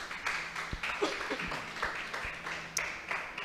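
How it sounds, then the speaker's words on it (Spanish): A church congregation claps during a service: soft, continuous applause with a few sharper claps standing out, fairly faint and room-like. "vamos a aplaudirle al Señor por este mensaje"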